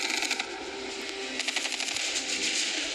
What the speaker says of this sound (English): Our unit is under attack. are Off we go. Here we go. Here we go. We're taking fire.